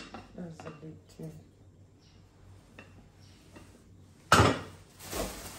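A metal cookware lid is handled with a loud clatter near the end, after a stretch of quiet talk and small knocks in a kitchen shop setting.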